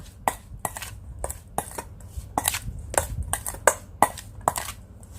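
Repeated clinking and scraping of a utensil against a bowl as mackerel salad is mixed, in an irregular rhythm over a quiet background.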